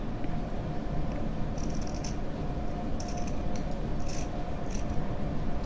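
Scissors snipping through fabric while cutting out a Hanuman costume, faint crisp clicks in short clusters over a steady hum of room noise.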